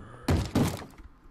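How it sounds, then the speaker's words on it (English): Two heavy knocks on a door in a Minecraft Thaumcraft modpack world, a quick pair of loud, hollow thuds followed by a faint fading tail. "Where's the door that it's knocking on?"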